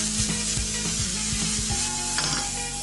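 Onions and chilli sizzle in olive oil in a pan, a steady close frying hiss with a few scraping stirs and clicks, and no voices.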